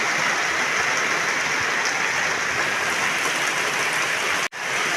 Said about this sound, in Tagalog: naririnig niyo po ba sa bubong ang patak ng ulan. Talagang malakas pa rin nga po ang ulan.